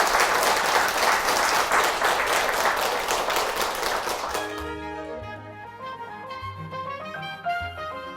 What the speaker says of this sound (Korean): 우리 연꽃마을에 박수 한번 주시면 좋겠습니다